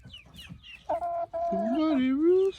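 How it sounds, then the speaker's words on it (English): A pet rooster gives short clucks and then a longer rising call at close range during evening bird care, loud against a quiet background. "Buddy Rooster."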